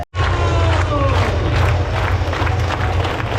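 A large crowd gathered before the start of the UTMB ultra trail race in the Alps, a steady loud roar of cheering and chatter filling the whole stretch.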